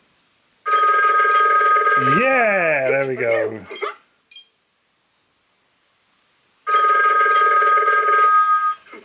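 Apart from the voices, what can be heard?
Disney Mickey Mouse animated telephone ringing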